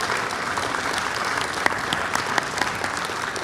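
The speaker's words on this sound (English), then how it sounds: "Let's give one more big round of applause for all the 4 award winners." A large crowd applauds award winners at the World Culture Festival, steady dense clapping throughout with no talking.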